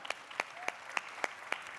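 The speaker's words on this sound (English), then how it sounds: "round of applause for yourselves." Sharp claps ring out at an even, steady rhythm during a winter weekend kids press conference, crisp and fairly close against a quiet room, about seven in under two seconds.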